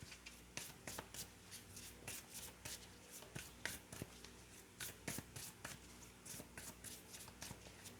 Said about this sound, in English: let me just pull an additional advice card for you here